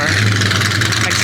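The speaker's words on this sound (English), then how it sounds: "Oh, hold on a second. There goes the Jaguar" A Jaguar car drives past at a Car Week 2023 show. Its engine gives a steady, close, loud rumble over broadband crowd noise.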